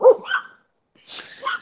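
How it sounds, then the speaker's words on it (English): A dog barks nearby, a couple of sharp barks, then a second burst of higher yipping after a short gap, heard outdoors during a morning walk. "You get barked at."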